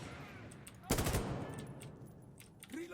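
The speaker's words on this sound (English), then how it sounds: "Where there's bad guys shooting" Enemy gunfire in the tactical shooter Insurgency: Sandstorm: a sudden loud automatic burst about a second in, then scattered softer shots and battle noise trailing off, with a rising tone near the end.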